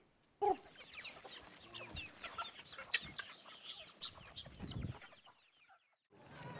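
Chickens clucking at a poultry seller's stall in the market at Konobougou, Mali, with a steady stream of overlapping clucks and squawks amid busy market background noise, continuing for several seconds before a brief near-silence.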